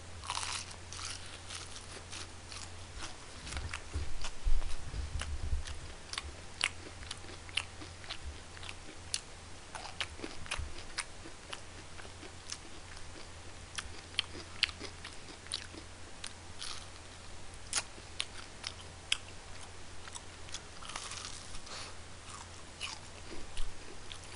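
Close, crisp crunching and biting on Nene Snowing fried chicken during a mukbang, with irregular crackly bites and soft chewing throughout a quiet room, with no talking.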